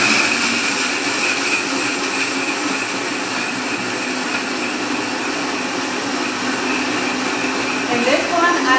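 A steady, loud whirring motor drones without pause, a constant high-pitched mechanical hum of a handheld blender plunger running at high speed.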